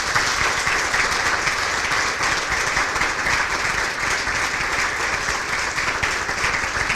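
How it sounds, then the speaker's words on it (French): A large audience applauds at a carbon-responsibility certification launch event, dense continuous clapping that stays loud and even throughout with no voices on top. "Je pense que ça mérite une bonne main d'applaudissements."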